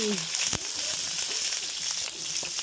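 Frozen chicken pieces frying in a hot pan for chicken adobo, a steady close sizzle with scattered crackles and spattering pops throughout, a brief voice heard at the start.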